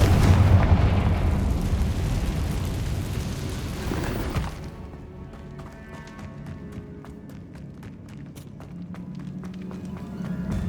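A Confringo fire spell from Hogwarts Legacy erupts in a loud, sustained blast with rumbling debris and crackle, then tails off into scattered pops and impacts.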